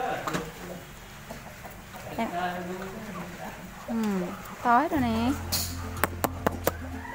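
Farmyard chickens cluck and call among ducks at a household farm, the bird sounds rising in a burst near the end while people talk over them throughout.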